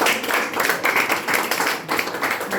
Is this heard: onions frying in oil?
no